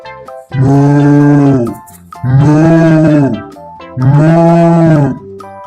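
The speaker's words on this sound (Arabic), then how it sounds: "ده صوت خروف فعلا، زي ما يكون جوه البيت." Three long, loud sheep bleats in a row, close by, with short pauses between them and no talking.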